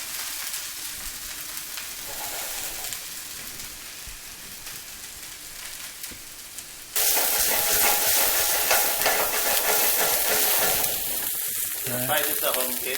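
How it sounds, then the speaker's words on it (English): Fish sizzles in a hot pan on a stove, a dense continuous frying hiss that jumps sharply louder midway and stays strong, with crackling spatter and no talk. "You want to hear that sizzle once you add it in."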